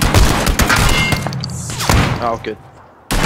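Sniper rifle fire in an online shooter game, sharp cracks and thuds bursting over a busy game soundscape while players talk throughout.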